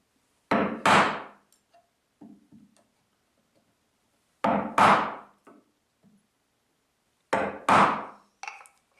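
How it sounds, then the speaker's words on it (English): A mallet strikes a chisel cutting a nut mortise in wood for a Moxon vise: sharp, close wooden knocks come mostly in pairs, with a few lighter taps between and quiet gaps separating the groups. "it gives you good practice in the use of the chisel"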